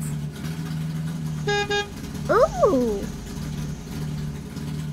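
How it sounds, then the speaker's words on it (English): A toy shapes truck gives a short double honk of its horn, followed by a swooping, revving motor sound over a continuous engine drone, and a voice briefly exclaims. "It's the Shapes truck!"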